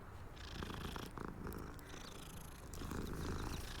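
A cat purrs steadily in the Hogwarts Legacy video game, a soft continuous rumble that holds at an even, faint level with no voices over it.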